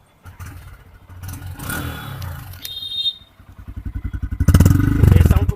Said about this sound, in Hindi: तो साउंड की अगर मैं बात करूँ तो एक बार बाइक को स्टार्ट करते हैं